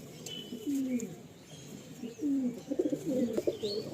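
Domestic pigeons from a breeding pair kept for hobby in Rajarhat, cooing and fluttering close by in short repeated bursts, with faint background noise.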